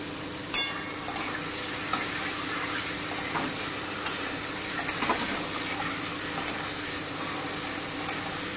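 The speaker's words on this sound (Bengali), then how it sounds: "ম্যারিনেট করা চিকেনগুলোকে আমি একটু ভেজে নিচ্ছি।" Marinated chicken for butter chicken fries over high heat in a pan, giving a steady, close sizzle with occasional sharp spatula clicks and scrapes; no one speaks.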